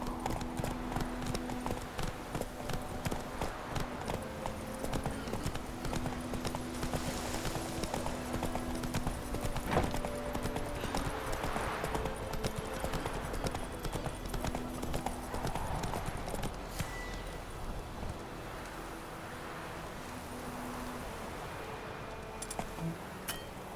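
Roach the horse gallops in The Witcher 3, steady rapid clip-clop hoofbeats running throughout over a continuous game ambience and music bed, close and fairly loud, ending slightly quieter.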